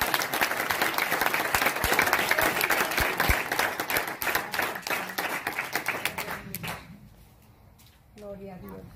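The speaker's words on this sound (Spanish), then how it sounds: "Ese aplauso es para Donald Trump" A church congregation at an evangelical service bursts into loud, dense applause that lasts about six seconds and then fades, followed by someone speaking.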